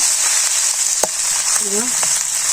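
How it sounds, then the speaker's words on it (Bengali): Fish sizzles in oil with a constant bright frying hiss, broken by a few soft clinks and stirring scrapes up close; no talking. "মাছটা কীভাবে ভাজা লাগে দেখতে থাকুন"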